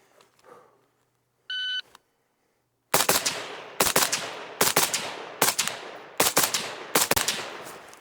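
Suppressed 5.56 rifle fitted with a Griffin Armament Dual-Lok HRT suppressor fires a quick string of seven sharp, loud shots, preceded by a short electronic timer beep.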